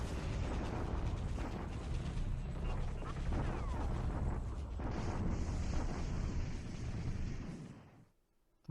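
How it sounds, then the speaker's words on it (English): Continuous loud rumbling bombardment, dense booms and mechanical clatter running for about eight seconds from an artillery strike at Clark in War in the Pacific, a WWII Pacific strategy game, then cutting off abruptly. "Bombardment at Clark"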